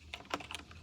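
Light typing on a HITIME XVX M61 60% wireless mechanical keyboard, a handful of soft, close key clicks spaced unevenly over under a second, quiet and alone.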